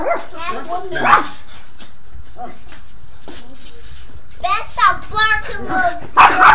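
A dog lets out a few sharp barks and yips, close by, with pauses between and a voice talking around them.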